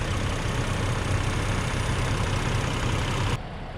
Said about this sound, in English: That's your engine.